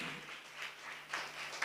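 A church congregation claps faintly and steadily, a soft patter of many hands at a distance for under two seconds.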